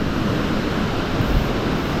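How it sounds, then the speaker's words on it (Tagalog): Strong waves churn and crash after a night of heavy rain and wind, a loud, continuous roar of rough surf heard close with no talking. "sobrang lakas yung alon"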